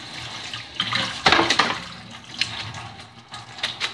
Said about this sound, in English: I'll give it a quick rinse